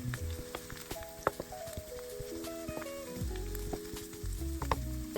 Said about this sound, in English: so I'll just scramble it while it's in the pan